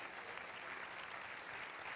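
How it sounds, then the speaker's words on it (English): Steady, dense clapping from a church congregation fills a short stretch, even and continuous without any speech over it, heard at a low overall level. "clap your hands."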